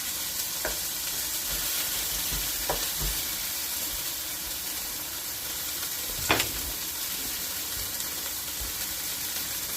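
Beef stew ingredients browning in a pan on high heat give a constant loud, even sizzle, with a few short stirring knocks and one sharper scrape near the end.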